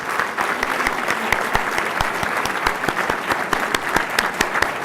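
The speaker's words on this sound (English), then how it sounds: "I'd like a big round of applause for Minister Meirelles." Audience applause for Brazil's Minister of Finance Henrique Meirelles after a speech, a dense steady clapping from a large crowd throughout, with sharp individual claps standing out.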